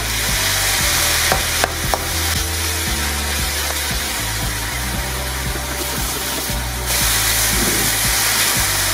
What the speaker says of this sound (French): je mets les fruits que je vais faire caraméliser un peu aussi